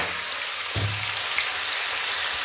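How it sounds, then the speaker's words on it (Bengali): Potatoes frying in a pan with salt and turmeric, a steady hiss of oil crackling throughout with a brief louder sizzle burst near the start, close and alone without talk. "দেখো এটা ভাজা হচ্ছে"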